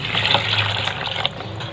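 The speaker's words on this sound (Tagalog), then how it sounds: "Bubuhusan na po natin ng tubig." Water pours and gushes over fresh blood clam shells in a basin, a loud, steady, close-up rush of running liquid with no talking.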